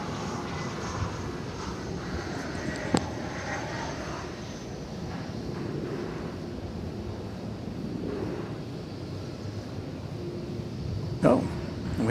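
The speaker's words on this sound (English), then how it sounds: "As you watch American Flight 2438 bisect the screen there, it's going to San Antonio" American Airlines flight 2438 passing at DFW Airport at night, a steady distant jet roar with wind buffeting the microphone and a voice talking over it.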